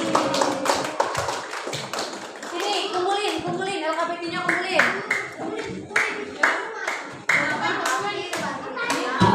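A classroom of children claps for a pupil during a multiplication lesson, sharp taps and claps scattered and fairly close, while a teacher talks over them and children's voices mix in.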